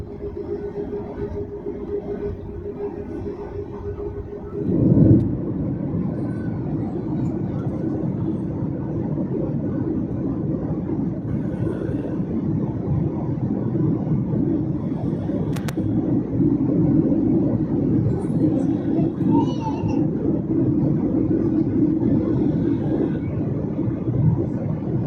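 Steady, loud broadband roar inside an Air India airliner cruising in flight, a continuous low cabin rumble with a brief louder swell early on and no voices.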